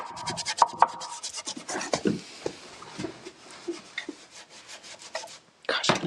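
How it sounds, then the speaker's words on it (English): A wax brush stippling a copper wax finish onto a surface, giving repeated soft dabbing and brushing scrapes close up in irregular bursts, with a few louder rubs near the end. "I love to stipple with wax brushes though, so I'll make it work."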